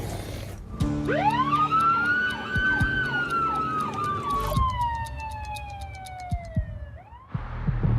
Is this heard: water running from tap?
no